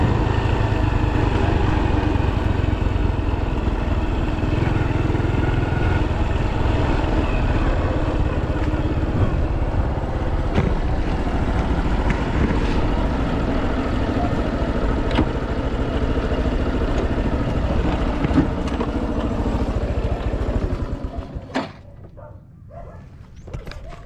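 A Honda Wave 110 motorcycle on a road test runs with a loud, steady mid-pitched engine drone and faint clatter, close and continuous before dropping away near the end.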